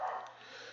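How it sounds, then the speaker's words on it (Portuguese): A dog barks out on a residential street, a short burst heard from moderate distance and fairly faint, with no speech over it. "Agora o cachorro começou a latir aqui na rua."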